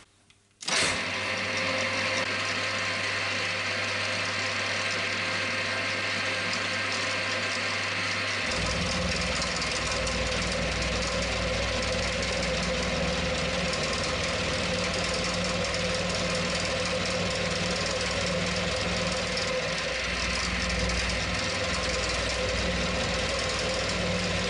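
A steel part for a Harrison M300 carriage stop has its top face machined, giving a loud, continuous mechanical hum with a grinding, rhythmic cutting texture. The tone shifts slightly partway through.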